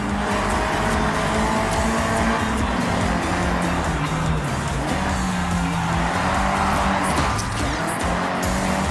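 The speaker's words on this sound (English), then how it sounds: "Nissan's S chassis has always been a go-to drifting platform, as well as a car that is just a joy to drive" A Nissan S chassis car drifting in Forza Horizon 6, its engine holding a loud, steady drone with tire squeal layered over it for the whole stretch, and no talking.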